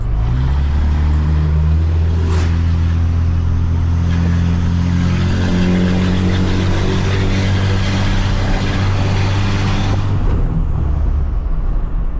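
A 600 hp Dodge Ram pickup engine rumbles loudly and steadily on light throttle while driving, a deep, close, continuous exhaust drone with a brief rise partway through.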